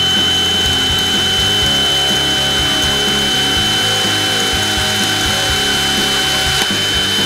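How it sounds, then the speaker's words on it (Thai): A Ronix cordless drill in plain drill mode runs at low speed into a workpiece, a loud steady motor whir with rough grinding texture and a faint rattle, continuous and close with no talk. "ก็ผมเลือกโหมดจับเจาะธรรมดานะรอบต่ำนะครับลองดูนะ"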